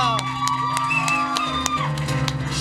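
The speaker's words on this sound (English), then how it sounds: "Please continue clapping, albeit not super loudly, for Andrew" A live audience at a Halloween special tabletop roleplaying show claps steadily throughout, with scattered whoops and cheers rising over the applause while a voice speaks over it.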